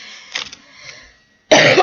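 A single harsh cough bursts out loudly at the end, after a few faint breaths and throat sounds.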